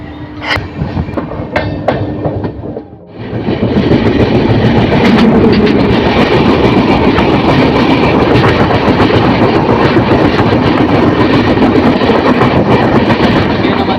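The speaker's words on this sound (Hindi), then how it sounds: "2 मिनट हॉल्ट के बाद हमारी ट्रेन का डिपार्चर हो चुका वेस्ट बंगाल का अलुआबाड़ी रोड जंक्शन से।" The Sikkim Mahananda Express pulls out of Aluabari Road Junction, heard from inside a sleeper coach: after a brief lull, a loud, continuous rumble of wheels and clattering carriages builds and rolls on steadily.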